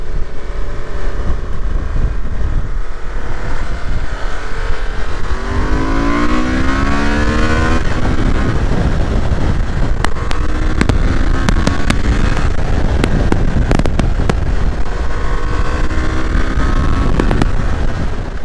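A 2023 Honda Transalp XL 750 motorcycle engine running while riding in second gear around 2500 rpm, loud and steady, mixed with heavy wind rush against the microphone and occasional sharp clicks.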